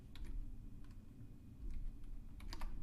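Sparse, light computer mouse clicks while points are plotted on a graph, a few soft clicks spaced about a second apart over a steady low background hum.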